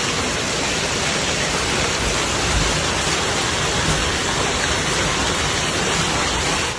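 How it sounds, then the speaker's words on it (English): Heavy rain and hail from a thunderstorm in Tyrol pour down in a dense, steady roar. The hiss is loud and unbroken, with no distinct thunder claps and no voices. "a thunderstorm moved through Tyrol, accompanied by hail, heavy rain, and strong gusts of wind."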